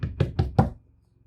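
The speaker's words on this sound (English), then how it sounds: "I reach Sayuri's house and knock on the door." Four firm knocks on a door in the Doki Doki Literature Club game, evenly spaced and close, then silence.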